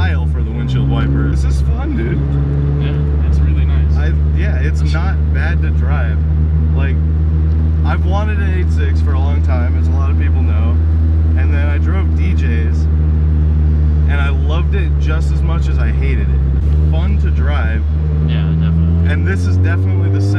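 A right-hand-drive JDM Toyota AE86 Levin cruises along a small mountain road, its engine a steady, droning hum heard from inside the cabin throughout, with a brief dip in pitch partway through as people talk over it.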